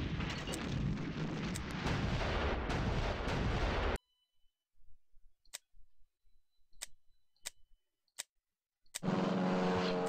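Artillery fire in the World War II strategy game Panzer General 3D: a steady loud roar of battle noise cuts off into near silence, then a string of sharp isolated clicks and bangs rings out before the din returns.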